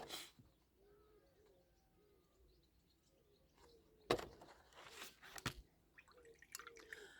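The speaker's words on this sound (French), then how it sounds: "Vous avez le chant des oiseaux en prime." Birds singing outdoors, faint chirps and soft dove-like cooing spread through a quiet backdrop, with a few sharp nearby clicks and knocks cutting in partway through.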